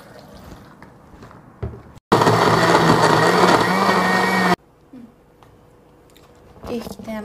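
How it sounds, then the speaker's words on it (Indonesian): A loud blender whirs steadily for a couple of seconds blending galangal, then cuts off abruptly, with quieter kitchen handling noises before and after. "sekarang kita akan blender barang"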